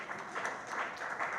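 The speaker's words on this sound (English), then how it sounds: "Can we give a hand clap to our MP?" Brief applause for a member of parliament at a formal session, soft even clapping from a modest audience, fairly distant and steady.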